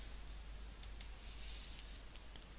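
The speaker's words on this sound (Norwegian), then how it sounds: "og klikker Avslutt kurs." A computer mouse gives a few small, faint clicks, close and isolated over a steady low electrical hum, with no talking.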